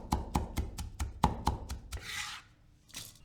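A knife chops pickled red chilies on a board in about ten sharp, evenly spaced strikes, close and crisp, followed by two brief scraping sweeps as the pieces are gathered.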